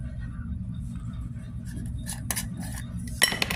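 Tiny #11 percussion caps drop into a small metal container, a few light metallic clinks and tinkles arriving late, heard over a constant low background hum.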